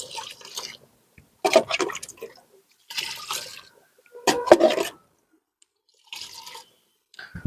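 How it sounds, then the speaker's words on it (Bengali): Water poured in short separate bursts into a pot for planting tubers, with splashing and trickling between quiet pauses. "তো এখন আমি সম্পূর্ণ ভর্তি করে দেবো না জল।"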